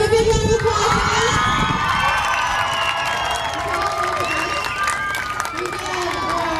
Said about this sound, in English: Give them a big round of applause, guys.